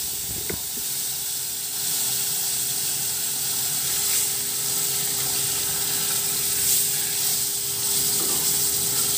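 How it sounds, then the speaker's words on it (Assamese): Koi fish fries in hot oil with a loud, steady hiss and sizzle that carries on throughout, broken by a single light clink near the start. "এজনী মাছ আছে, সেইজনীও মই একেলগতে ফ্ৰাই কৰি লওঁ"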